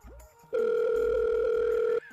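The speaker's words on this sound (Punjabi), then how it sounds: "ਮੈਂ ਸਰ ਨੂੰ ਫੋਨ ਕਰਕੇ ਪੁੱਛਦਾ ਆ," An outgoing telephone call gives one steady electronic ringback tone lasting about a second and a half, heard alone and clearly, with a short quiet stretch before and after it.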